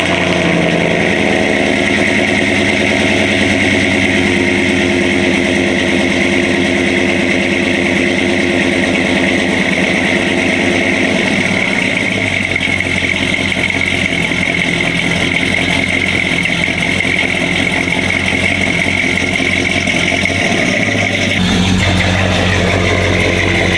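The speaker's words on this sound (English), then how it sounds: "Trying to give you guys as many opportunities to hear the new exhaust as possible." A pickup truck engine with a new exhaust rumbles loudly and continuously with a deep exhaust note, its pitch shifting as it revs and settles.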